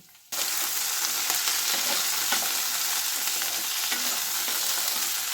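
Beans, cauliflower, carrot and peas fry in a pan, a steady loud sizzle that starts abruptly after a brief quiet moment and continues evenly with light stirring clatter and no voices.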